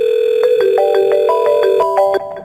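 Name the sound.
telephone call tone on FreePBX VoIP extension 103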